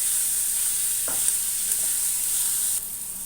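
Onions sizzle in a pan with a steady, bright hiss throughout, interrupted by a couple of soft scraping stirs of the spoon, for a drumstick masala curry; the hiss drops slightly near the end.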